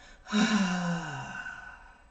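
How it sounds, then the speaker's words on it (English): A single deep, breathy exhale pushes air out forcefully after a full breath into the stomach, close and loud, trailing off over about two seconds. "Take a deep breath in and fill up your diaphragm and your stomach. And let's push it out."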